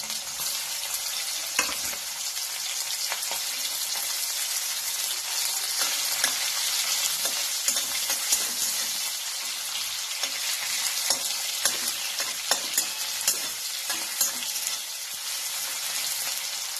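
Onion frying in hot oil for a spiced bottle gourd dish gives a loud, continuous close sizzle with crackling pops and occasional stirring scrapes throughout, with no voices.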